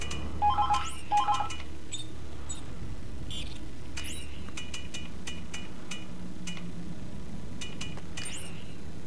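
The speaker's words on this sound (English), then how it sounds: "Stupid fucking phone. I ain't answering it this time." Telephone ringing in Dead Space 3, a repeated electronic bell-like trill in short bursts, loud at first, then fainter chiming tones over a low ambient hum.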